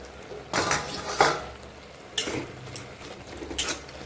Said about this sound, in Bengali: শাকটা একবার একটু নাড়া দিয়ে দেখি